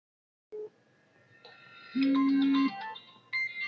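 A phone ringtone rings in a quiet room, a short electronic melody with a loud sustained tone in the middle, preceded by a brief beep and faint background sounds.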